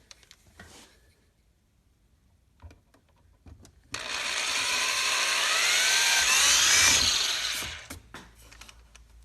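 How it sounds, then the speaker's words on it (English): Power drill boring a pilot hole with a small sharp bit while installing heated seats in a Dodge Ram 1500. It whines steadily for about four seconds and then stops, after a few quiet handling clicks. "So you always want to start with drilling your pilot hole."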